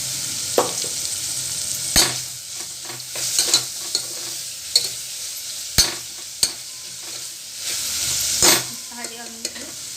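Onions fry in ghee in a pan for chicken, with a steady hiss and sizzle under sharp scraping knocks of a spoon stirring at irregular intervals, close and unaccompanied by talk.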